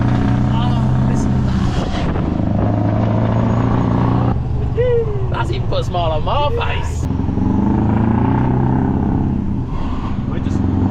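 A straight-piped Scania V8 truck engine revs hard, a loud, deep, raw roar rising and falling close by, with some wheel spin, while people talk and laugh excitedly over it.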